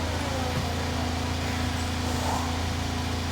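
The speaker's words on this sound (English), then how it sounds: "I honestly just love the sound of the Honda engine" A Honda race car engine in a racing game, droning steadily at high revs as a constant buzzing hum without pauses.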